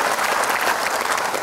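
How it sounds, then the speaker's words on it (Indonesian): A studio audience on an Indonesian talk show claps in sustained, dense applause, loud and even throughout the short stretch. "Oke, kita berikan aplaus, terima kasih."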